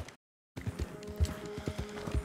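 Hooves of a slow, lame horse clop in an uneven rhythm in the Red Dead Redemption 2 video game, close and moderately loud after a brief silence, with faint tonal game sounds underneath.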